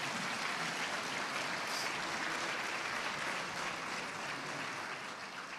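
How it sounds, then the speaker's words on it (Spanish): A dense, sustained round of applause from a large church congregation fills the whole stretch, loud and continuous with no talking. "Dale fuerte el aplauso al Señor."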